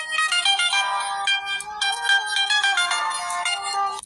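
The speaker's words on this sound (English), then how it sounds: "this is the background music of the video that we just watched" A bright, electronic-sounding melody plays steadily, with layered synth tones that sound like a cheerful background tune.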